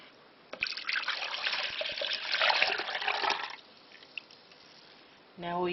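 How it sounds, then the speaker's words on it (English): A milk and yogurt mixture poured back into a container, a full splashing stream for about three seconds, followed by a quiet pause, a small knock and then a voice starting to speak. "And then pour it back."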